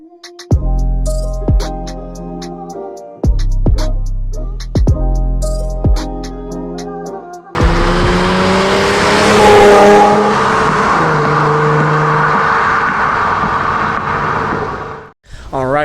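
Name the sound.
Infiniti G37 / Q60 with custom catback exhaust on dyno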